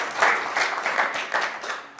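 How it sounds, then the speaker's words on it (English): An audience at a community development presentation claps, a short burst of moderately loud applause with uneven pulses that swell and ease over about two seconds. "Normally, yeah, you can clap."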